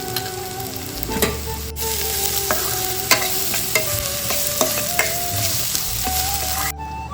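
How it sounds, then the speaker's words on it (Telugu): Onions and curry leaves fry in a pan while a spoon stirs them steadily, a constant loud sizzle broken by clinks and scrapes of the utensil against the metal, close up with no voices. "వేయించే వరకు కలుపుతూ ఉండాలండి"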